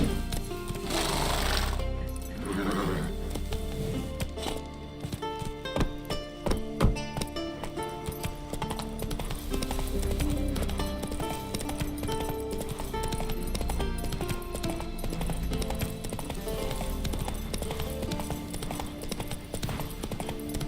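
The horse Roach gallops in The Witcher 3, a rapid, continuous clip-clop of hooves with a brief whinny near the start, running steadily beneath game music and ambience.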